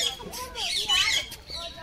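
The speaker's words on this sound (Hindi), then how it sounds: "और ये है रंग बिरंगा सा पक्षी" Colourful bird at a zoo giving a few harsh squawks and chirps, close and fairly loud, with a little background noise.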